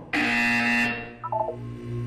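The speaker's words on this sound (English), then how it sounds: "When you hear the buzzer, look down at the floor." Test-chamber buzzer from the video game Portal 2: a single loud, sustained harsh tone of nearly a second, followed by a few quick softer electronic blips, with no talking.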